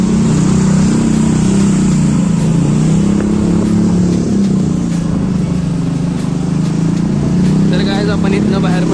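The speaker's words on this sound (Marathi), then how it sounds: "सायलेन्सर डेंजर वाजा लागलाय" A motorcycle with a loud silencer drones steadily close by, a heavy, sustained engine rumble that holds at a constant level throughout.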